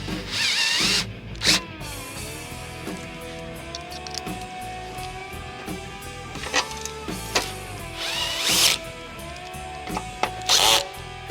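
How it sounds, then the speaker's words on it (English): Rear bolts being fitted to a B&B bash plate on a Ducati Desert X motorcycle: intermittent metallic clicks, ratcheting and brief whirring tool bursts spread across several seconds, close and moderately loud. "Now that you've got them done, we can insert the rear side bolts."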